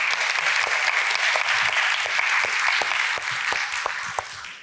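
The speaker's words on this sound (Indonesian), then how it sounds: "Kita berikan aplaus." A campus audience at an Indonesian talk-show event bursts into steady, dense applause that holds strong throughout and thins slightly at the end, with scattered voices mixed in.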